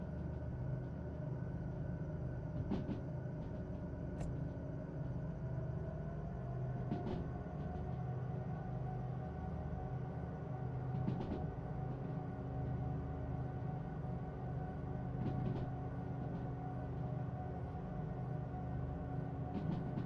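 A train locomotive's engine and cooling fans in a train simulator game with an overheating mechanic: a steady, loud mechanical drone and fan whir runs unbroken throughout, with faint periodic clicks over the constant rumble.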